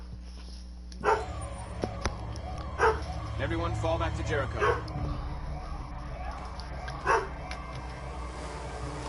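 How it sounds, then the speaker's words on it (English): A pet dog named Marlon barks and yips indoors in a few short, sharp bursts, heard over game dialogue and a person talking. "Marlon, my dog."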